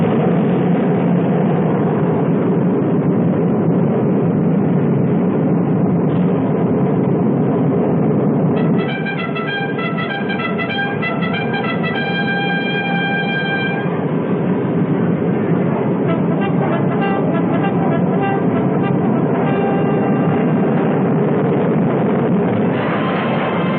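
A Northrop YB-49 Flying Wing, a 100-ton jet bomber, roars steadily down the runway on takeoff, a loud continuous engine rumble and whine with shifting tonal hums as it climbs, with no talk.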